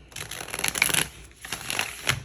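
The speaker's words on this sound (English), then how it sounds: "When we're shuffling, we're getting into it." A deck of cards gets shuffled in two quick, crackling riffle bursts, close and fairly crisp, with a short pause between them during a tarot-style card reading.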